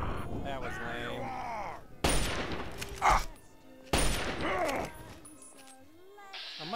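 Gunfire in the video game Fallout 3: two sharp bursts of shots ring out a couple of seconds apart, each decaying into a rumbling tail, with a voice talking in between.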